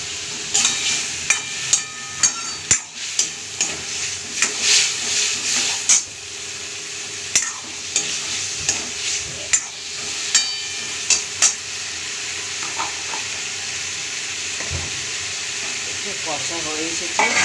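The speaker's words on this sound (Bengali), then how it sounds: "এবার ভালো করে জিরেটাকে দিয়ে কষে নেবো, অল্প জল দিলাম।" Cumin and spices sauté in a pan with a splash of water, giving a steady close sizzle and hiss while a spatula repeatedly knocks and scrapes against the pan in uneven strokes.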